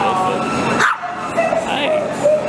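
Dogs at a veterinary vaccination visit give yips and whimpering barks, fairly close, with a sharp burst near the start, over background chatter and a speaking voice.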